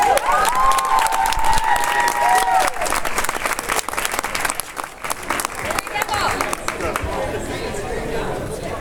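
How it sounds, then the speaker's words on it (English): Applause and cheering for high school athletes at a letter-of-intent signing day, clapping from a gathered crowd with shouts and a whistle early on, plus scattered chatter as the clapping thins. "One more round of applause."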